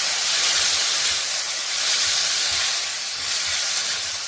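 Boiled raw mango pieces frying in a pan for sweet-sour jelly, giving a loud, continuous steamy hiss and sizzle that stays even throughout, close up with no voices.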